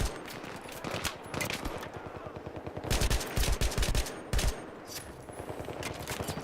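Automatic AN-94 rifle fire in the video game Battlefield 3, rapid loud bursts of shots in close succession with brief pauses, repeated across the whole stretch, with no talking over it.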